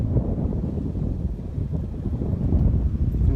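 Steady low rumbling wind buffeting a microphone beside a pond on a cold, cloudy winter day, continuous and fairly loud throughout with no voices.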